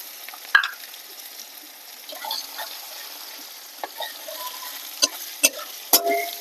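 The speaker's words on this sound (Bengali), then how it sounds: "পেঁয়াজটা লাল লাল করে ভেজে নেব" Onions fry in hot oil with chopped garlic for a chicken curry, giving a soft, even sizzle broken by sharp spatula scrapes and clacks against the pan, several in quick succession toward the end.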